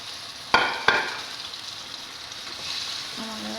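Fish frying in a pan, a steady soft sizzle with two sharp clatters near the start, close and moderately loud, no talking.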